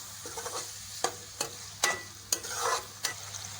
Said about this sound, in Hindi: और टमाटरों को तब तक भूनेंगे जब तक ये अच्छी तरह से गल ना जाए।